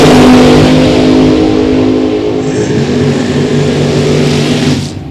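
Drag race cars launch hard off the start line at a drag strip, a loud, close roar of revving engines that fills the whole moment and then fades as they pull away.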